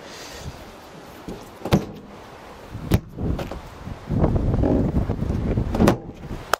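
A door is opened or shut outdoors in windy spring weather, with several sharp knocks and clunks over a rumbling wind-buffeted background.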